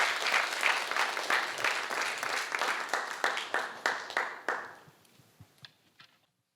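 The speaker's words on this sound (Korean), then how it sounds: "우리 박수로 크게 맞겠습니다" A congregation at a Wednesday church service claps to welcome a missionary from Fiji, a dense round of applause that thins into a few scattered claps before fading out.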